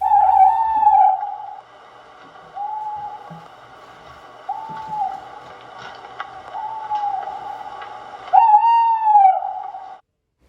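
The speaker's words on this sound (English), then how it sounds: "Then I heard the hooting of an owl." Repeated owl-like hoots, tonal and drawn out, sound at intervals against a quiet background, a few sounding louder and closer near the end.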